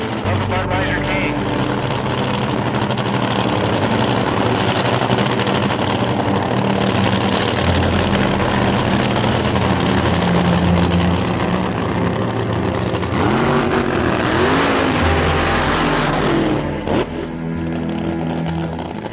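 Budweiser King drag racing car, driven by crew chief Dale Armstrong, making a pass at Orange County International Raceway, a loud sustained engine roar that swells and shifts pitch over about nineteen seconds with crowd and track noise.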